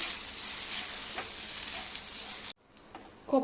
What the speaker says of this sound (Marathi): आता आपण याच्यामध्ये पाऊण कप किसलेलं सुकं खोबरं टाकायचं आणि हे छान आपल्याला भाजून घ्यायचे